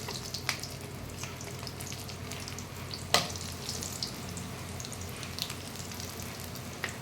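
Garlic fries in a generous pool of oil for a Tamil garlic kuzhambu, a soft continuous sizzle with occasional clinks and scrapes of a utensil against the pan.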